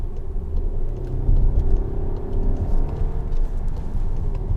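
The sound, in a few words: 2019 VW Arteon accelerating and shifting gears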